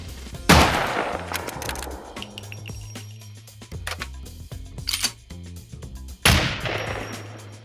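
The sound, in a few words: redesigned Kar 98 and SVD gunshots in video game SCUM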